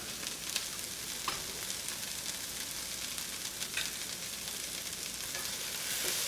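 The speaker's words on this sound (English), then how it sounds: "we're going to cook these veggies down a little bit" Cabbage and mixed vegetables fry in a pan with a steady, dense sizzle. A few sharp crackles and a stirring scrape break through the hiss, and no one speaks.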